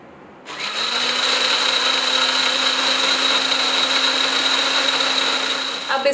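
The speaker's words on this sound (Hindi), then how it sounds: "अब इसको अच्छे से ग्राइंड कर लेंगे" A mixer grinder grinding lemon juice with ginger garlic paste for a grilled chicken marinade starts up abruptly and whirs loudly with a steady high-pitched motor whine, running continuously before slowing at the end.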